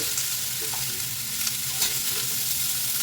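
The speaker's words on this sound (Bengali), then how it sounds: "আর একটু এখানে দেব জিরে ফোড়ন, দিয়ে শাক ভাজাটাও বসিয়ে দেব।" Greens fry in a pan with a cumin and dried red chilli tempering, producing a steady, close hiss and crackle under a faint low hum.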